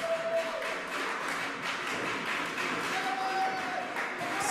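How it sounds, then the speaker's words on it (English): A pro wrestling crowd at Grapple Pro roars and claps in a steady wash of cheering and scattered applause, fairly loud and filling the space, with a few whistles cutting through. "Crowd going crazy here at Grapple Pro"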